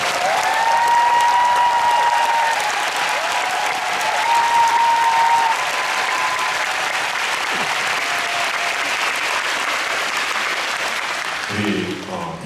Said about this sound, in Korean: 한 번 더 크게 박수 부탁드립니다